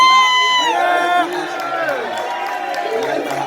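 Crowd cheering and whooping at the Nate Diaz vs Jorge Masvidal press conference in New York City, a loud, dense roar of many voices with shouts rising over it throughout.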